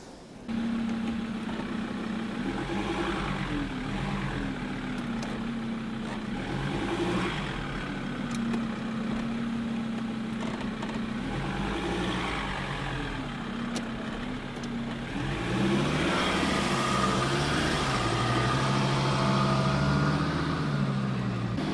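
A 4x4 engine labours and revs steadily as the vehicle tries to drive out of soft beach sand, with engine pitch shifting and rising louder toward the end; no one speaks.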